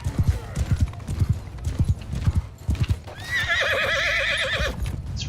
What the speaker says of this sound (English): Let's ride my horse into a tree there.